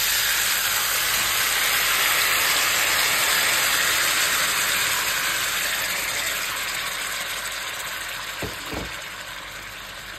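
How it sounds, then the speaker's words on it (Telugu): A steady, loud sizzle of 1 kg of chopped tomatoes hitting a hot pan for South Indian tomato chutney, continuous hiss and frying throughout with a couple of small knocks near the end. "ఇప్పుడు పెద్ద పెద్ద ముక్కలుగా తరిగి పెట్టుకున్న 1 kg టొమాటో వేసుకోవాలి."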